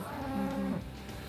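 Cattle heifers on a Colorado ranch give one drawn-out, mid-loud moo at close range, over a steady low background hum.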